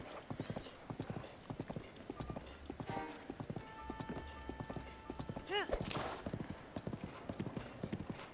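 Horse hooves clip-clopping in the video game Breath of the Wild, a steady rapid rhythm of close hoofbeats with a whinny partway through.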